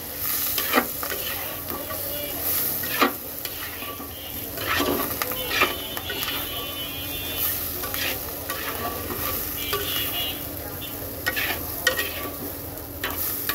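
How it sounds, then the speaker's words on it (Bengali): Spoon stirring turmeric and coriander powder into catla fish roe in a frying pan, a steady close scraping and soft sizzling with occasional sharper knocks against the pan, no voices. "এইবার আমি মিক্স করে দেব।"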